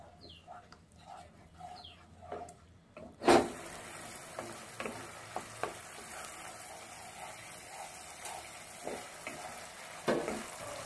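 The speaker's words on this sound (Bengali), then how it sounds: "মশলাটা এবার ভালো করে কষিয়ে নেব। ভালো করে কষিয়ে নেব যতক্ষণ মশলাটা থেকে তেল না ছাড়বে।" Spice paste with turmeric is stir-fried in oil, a faint sizzle with scattered scraping stirs and a sharp clatter early on, under quiet room ambience with distant bird chirps.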